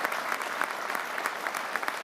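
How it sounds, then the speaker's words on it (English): An inauguration audience applauds the 19th President and Dean, Cinnamon Carlarne, with a dense, unbroken wash of crowd clapping that stays loud and even. "can we have another round of applause for our 19th President and Dean, Cinnamon Carlarne"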